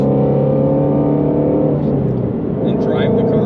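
Ford Shelby GT350R with its Voodoo V8 and manual gearbox blips its engine in a rev-match downshift, a loud, steady exhaust drone that sustains and then rises and roughens, with another voice audible beneath it.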